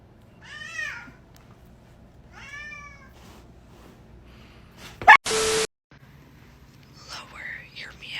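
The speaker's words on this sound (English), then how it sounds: "Lower your meow a little bit." Pet cat meowing in a home, several drawn-out mews spaced apart, fairly close, with a sharp electronic beep midway and quiet background hiss.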